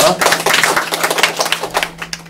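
A small audience at a talk-show style discussion claps, a brief, uneven patter of hands that rises and falls in short bursts over a faint steady hum.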